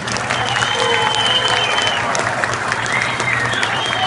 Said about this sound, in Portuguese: gostaria agora de pedir uma grande salva de palmas ao Coral Companhia Sancler pelo show que nos deram essa noite